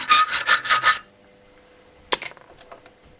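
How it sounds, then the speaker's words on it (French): A rough hole in the bearing plate of a camper-van lock is enlarged with a blade. There is about a second of quick, rhythmic rasping strokes, a pause, then a few scattered scrapes and clicks. "Agrandissement du trou ébauché dans le palier avant exécution à la lame des 4 côtés du carré."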